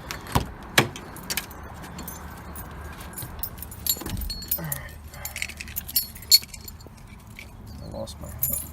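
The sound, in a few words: car keys jangling at the ignition of a 240sx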